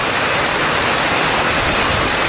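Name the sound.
heavy rain during hail storm in Italy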